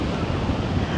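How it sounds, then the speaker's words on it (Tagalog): Strong sea waves roll under gusty wind, a steady, dense roar of surf and wind rumble buffeting the microphone with no pause. "Masyadong malakas ang ano alon kasi nga mahangin."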